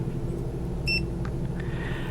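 An InnoTechRV tire pressure monitoring display gives a short electronic beep when its center button is pressed, heard as a brief, clear tone over a low steady background hum.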